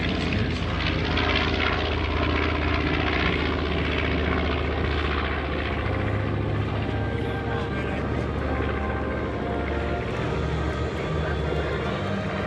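A North American B-25 Mitchell propeller airplane roars past at an air show, its loud engine drone steady and full throughout, with faint voices mixed underneath.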